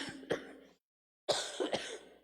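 A lingering cough after Covid, two short harsh cough bursts, then a pause and a cluster of three more close together, near and fairly loud with no talking.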